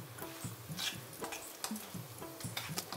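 Chili powder stirred into oil in a pan, soft rhythmic scraping strokes with a light sizzle beneath, close up and fairly quiet, no talking.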